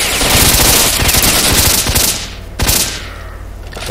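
Automatic gunfire in S.T.A.L.K.E.R.: Shadow of Chernobyl, loud rapid bursts fired through walls and doors, rattling fast for about two seconds, then a brief pause and a single closer shot with trailing noise.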